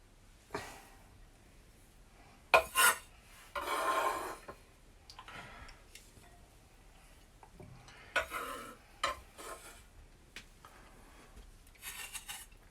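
Scraping, scratchy stirring of couscous in a pot, in irregular bursts with pauses between, fairly close and moderately loud, no talking.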